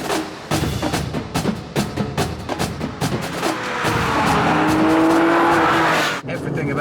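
A car drives at speed on a scenic touring road, its engine revving and shifting through gears in rapid pulses before settling into a sustained, rising drone as it powers along, loud and close.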